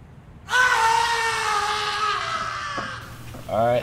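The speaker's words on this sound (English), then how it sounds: "There's a man screaming on the left, and it sounds very close." A man's drawn-out scream in the Project Zomboid zombie survival game rises suddenly and holds, loud and close, fading after a few seconds before a brief voiced sound at the end.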